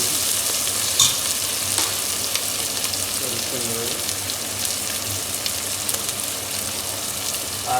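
Oil sizzling in a hot pan while fish and pointed gourd are cooked, making a steady, fairly loud hiss with scattered utensil clinks and a faint voice briefly in the background.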